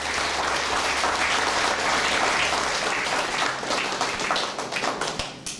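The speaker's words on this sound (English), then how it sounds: "it needs a big round of applause." Audience applause at a Joy of Giving special event, a dense, loud wash of clapping that holds steady for several seconds before thinning and tapering off near the end.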